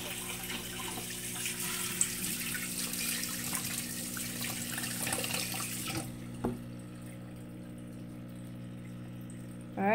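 Water poured slowly into a turtle tank, a steady broadband splashing and trickling for about six seconds that then cuts off, leaving a quieter background with a few faint drips.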